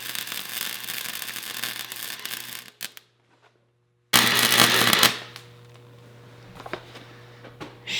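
Welding on a Lexus car exhaust gives a loud, steady crackling hiss that stops abruptly, then flares again in a harsh burst before settling into a low hum with faint ticks.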